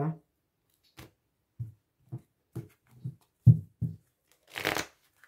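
A deck of playing cards being cut and shuffled at a tarot reading table: a series of separate soft card slaps and taps, roughly eight distinct hits spaced about half a second apart. Near and quiet, ending with a brief riffling burst.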